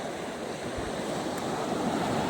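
Waves of the Arabian Sea at sunset wash in a steady, broad surf rush with some wind noise on the microphone, continuous and moderately close, with no voices.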